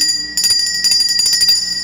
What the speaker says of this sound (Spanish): Cada vez que se inicie la sesión o para llamar la atención, se suena la campana.